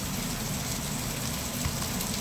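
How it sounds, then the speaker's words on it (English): Steady rain falling outdoors, a continuous dense hiss of drops on surfaces, even and unbroken throughout with no talking. "listen to the rain."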